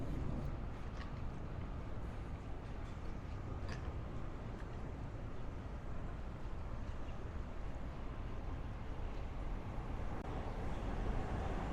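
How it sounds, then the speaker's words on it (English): An express train passes near a station in the Murray Hill neighborhood of Queens, New York, by Northern Boulevard, heard as a steady, broad low rumble that holds evenly for the whole stretch, with no talking. "Sounds like it's an express train though."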